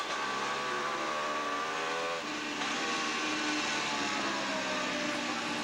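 Onboard Honda racing motorcycle at the Daytona 200, ridden by Miguel Duhamel in heavy lapped traffic; a high-pitched engine screams steadily, with pitch dropping and climbing through gear changes, loud and unbroken.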